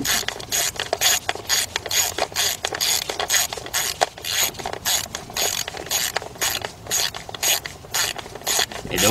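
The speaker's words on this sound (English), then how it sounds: "Now, I have my 8mm quarter inch drive ratchet. So what I'm going to be doing, tighten this up." An 8mm quarter-inch drive ratchet clicks in rapid, steady bursts while tightening valve cover bolts on a 2012 Ford F-150 3.5 engine. Close-up and loud, with brief pauses between strokes.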